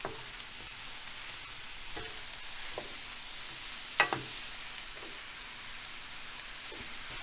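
Mushrooms for pappardelle alla boscaiola cook slowly in a pan over a low flame, giving a soft, continuous sizzle with a single sharp clank from the pan midway.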